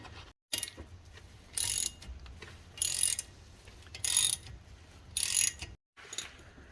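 Ratchet driving bolts in to pop a rear brake rotor off a 2003 Chevy Trailblazer: four close bursts of rapid clicking separated by short pauses, fairly loud, with no talk.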